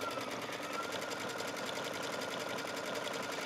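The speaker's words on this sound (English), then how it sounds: "I'm just going to start in the center and make myself a buttonhole." A sewing machine runs steadily at close range, stitching a buttonhole on a skirt waistband with a fast, even, rattling chatter that never pauses.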